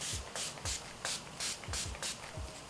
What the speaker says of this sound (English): Setting spray, not setting powder.